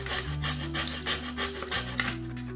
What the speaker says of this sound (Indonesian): masih tetap pakai gergaji triplek